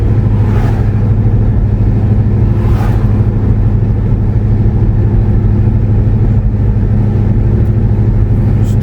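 A car engine, just fitted with a replacement harmonic balancer, runs with a steady, loud low rumble throughout, with a couple of faint whooshes early on.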